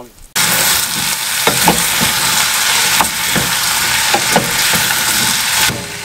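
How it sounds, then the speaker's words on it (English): Chopped onions and potatoes land in melted butter with a sudden loud sizzle, then fry steadily up close while occasional knocks and scrapes of stirring break through the crackle. "So I've chopped the onions and the potatoes. Now I'm just going to add them to the melted butter."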